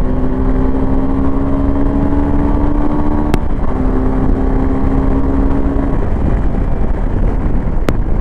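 A 2025 Suzuki V-Strom SX 250 motorcycle cruises on a highway. Its engine holds a steady, loud drone under heavy wind rush, and the pitch shifts briefly at one point, with no talking.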